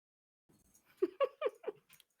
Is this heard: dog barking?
yes